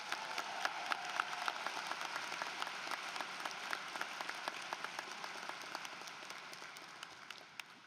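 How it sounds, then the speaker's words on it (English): A crowd at a high school graduation ceremony gives a long round of applause, with many hands clapping steadily and sharp individual claps standing out. It fades slightly toward the end and is heard from a moderate distance. "Let's give them a big round of applause."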